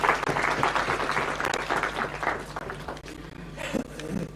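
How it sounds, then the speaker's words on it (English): Audience at a parliamentary induction retreat applauding steadily throughout, a dense sustained wash of clapping from a roomful of people. "An applause for him, please."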